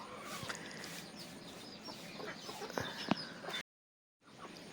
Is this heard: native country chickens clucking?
yes